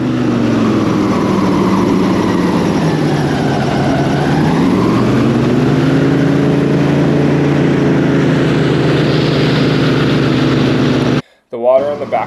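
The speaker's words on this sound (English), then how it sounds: "we crank the engine on the airboat and we slide right across this dirt onto the other side into the next lake" Loud, steady drone of an airboat's engine and propeller as the craft slides across dry sand and dirt between lakes in the Bahamas, Abaco, holding a constant roar with a brief pitch dip before cutting off abruptly near the end.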